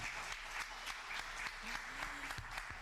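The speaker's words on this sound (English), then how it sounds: "let's give a round of applause for that" Applause from the audience at a tech meetup panel on consumer analytics AI, a steady crackling wash of many hands clapping, fairly faint and distant, with a brief voice murmuring underneath.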